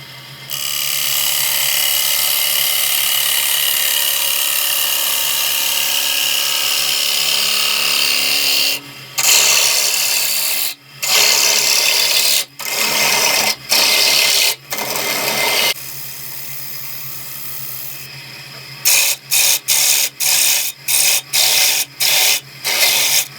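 A wood lathe spins a spalted apple ogee bowl while a gouge takes a slow finishing cut on the wall, a loud continuous scraping whir broken by a series of brief pauses near the end.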